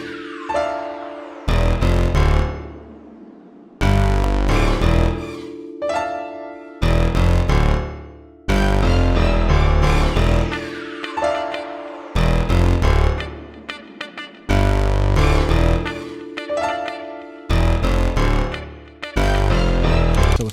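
A looped old school West Coast beat melody at 90 BPM, with no drums yet, and loud repeating phrases of bright synth chords over deep bass, each phrase restarting every couple of seconds.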